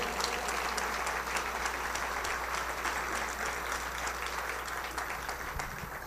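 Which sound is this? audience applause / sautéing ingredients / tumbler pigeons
audience applause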